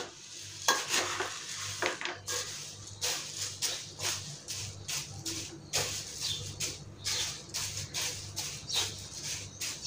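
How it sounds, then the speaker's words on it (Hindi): A spoon stirs fried peanuts and poha into a chivda mixture in a pan, making repeated close scraping and rustling strokes with a soft sizzle underneath and no talk. "इन सारी चीज़ों को अच्छे से मिक्स कर लेंगे।"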